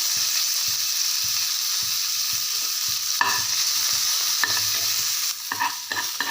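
Spices and finely chopped ginger crackle and sizzle in hot oil, a steady frying hiss with occasional spatters and a spoon scraping and stirring the pan.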